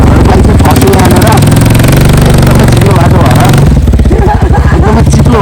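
A motorcycle engine rumbles steadily on a slippery road, loud and close, then shifts to a rougher, uneven note toward the end, with people talking over it.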